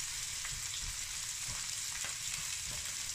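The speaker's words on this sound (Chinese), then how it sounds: "翻动一下虾，使虾两面都煎至红色。" Whole shrimp frying in hot oil in a pan, with a steady bright sizzle throughout and occasional soft clicks and bumps as they are turned, no voices.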